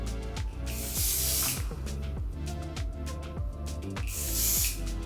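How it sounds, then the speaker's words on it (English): Repeated short hissing bursts of wig spray misted around the hairline of a lace wig, a few quick pumps with brief gaps between them, close and fairly loud. "I'm gonna take a little bit of wig spray and just go around my hairline"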